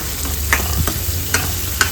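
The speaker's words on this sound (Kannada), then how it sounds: "ಈಗ ಎಲ್ಲ ಒಮ್ಮೆ ಮಿಕ್ಸ್ ಮಾಡಿಕೊಂಡು ಸ್ವಲ್ಪ ಜಾರ್ ಸ್ವಲ್ಪ ನೀರನ್ನು ಸೇರಿಸ್ಕೊಳ್ಳೋಣ" Jackfruit seed paste mixed in a pan for chutney: a few distinct spoon strokes scrape the pan over a steady low sizzle, close and clear, with no voices.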